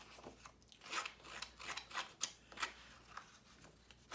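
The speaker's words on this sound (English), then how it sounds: "my scissors and distress the edges of these" Quiet, close snipping of scissors distressing the edges of scrapbook paper, a series of short irregular cuts with soft rustling between them.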